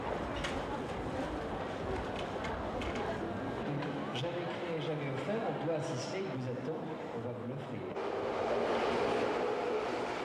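A subway train runs with a continuous rumbling roar and rattling of the cars, steady throughout, while people talk nearby.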